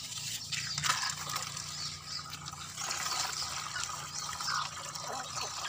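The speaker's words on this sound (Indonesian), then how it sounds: "selanjutnya kita isi air ya" Water runs steadily into a container, about ten liters being filled to mix fertilizer for young cucumber plants; a continuous close splashing gush with no pause and no talk over it.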